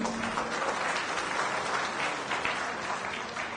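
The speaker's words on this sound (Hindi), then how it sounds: "हल्की नहीं, जोरदार ताली होनी चाहिए।" Loud, sustained applause from an audience at a party office gathering in Patna, dense clapping that fills the whole stretch evenly and tapers slightly at the end.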